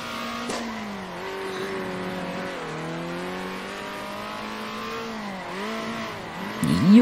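Buggy race car engine in the Circuit Superstars racing video game, a steady buzzing drone that rises and falls through gear changes and throttle shifts, with a louder burst near the end, no talking.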